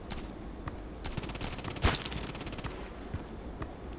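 Automatic gunfire in the shooter game Contract Wars on the Interchange map during a team elimination match, a rapid burst of shots with one louder crack near the middle over a steady game background.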